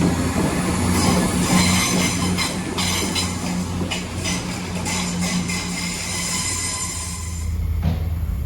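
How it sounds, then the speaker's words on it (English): A Class 172 diesel train pulls out of University station in Birmingham, with a loud, steady rumble, clattering wheels and a high wheel squeal rising near the end, with no voices. "about to leave is going to be this slightly delayed 11:39 cross-country service to Nottingham via Derby"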